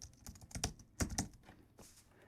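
Fingers type a short word on a computer keyboard, a close, quiet cluster of clicky keystrokes in uneven bursts over a couple of seconds.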